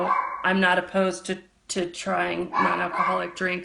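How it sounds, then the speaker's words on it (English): Dogs bark and yip in the background, mostly masked by a person talking steadily close to the microphone. "sorry about the dogs"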